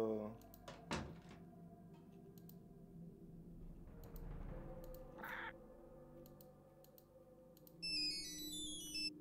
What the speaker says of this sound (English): There goes my cell phone.